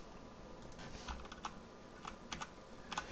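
Computer keyboard typing while a game object is renamed during Unity setup, a short burst of light, irregular key clicks close by with no talking.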